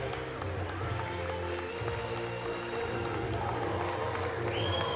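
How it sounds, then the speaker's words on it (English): Standing crowd applauding in a large hall after a men's foil fencing World Cup medal match, dense steady clapping and crowd noise filling the space, with a faint whistle near the end. "And the crowd are on their feet here in this beautiful hall."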